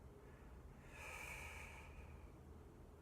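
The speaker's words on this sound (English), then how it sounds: "Breathe in" One deep breath drawn in through the nose during guided meditation, a soft airy inhale swelling for about a second and then fading, faint and close against a quiet background.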